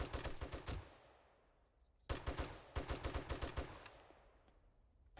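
Automatic gunfire sounds in the video game 7 Days to Die, with two loud rapid bursts of shots separated by a short pause, each ending in a fading echo.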